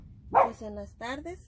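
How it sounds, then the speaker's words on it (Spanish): A small pet dog barks outside a greenhouse during succulent repotting, one sharp bark followed by a couple of shorter yips while someone speaks Spanish nearby. "Perdón por el ruido, pero como les digo, tenemos un perrito y anda ahí afuera"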